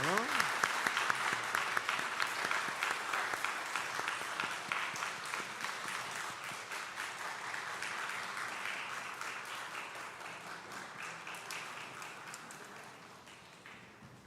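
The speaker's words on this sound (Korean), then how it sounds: "큰 박수로 축하해 주십시오" A church congregation at an ordination and installation service gives a long round of applause, many hands clapping densely and steadily, slowly fading toward the end, with a voice faintly heard at the start.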